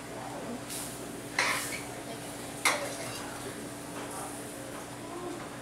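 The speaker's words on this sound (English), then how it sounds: "gonna keep stirring, otherwise it separates. And we gotta keep stirring this, or it gets burnt." Bacon mac and cheese is stirred in a pot, with a soft background hiss and two distinct metallic clanks of the utensil against the pot.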